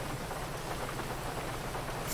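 Rain in the GTA V video game, a steady dense hiss of rainfall at even loudness with no voices.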